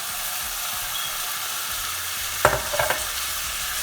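Two diced potatoes dropped into hot oil for a potato and pea samosa filling, giving a steady broadband sizzle with a sharper burst of spitting and crackling partway through as they hit the pan.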